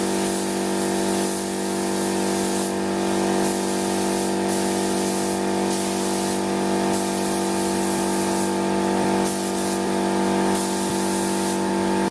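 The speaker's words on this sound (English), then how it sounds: "I could then mix both parts up, get it into the gun, and then spray it onto the car." A spray gun lays epoxy primer onto a Toyota Starlet body with a loud, continuous hiss over a steady tonal compressor hum, the spray briefly easing and resuming at intervals.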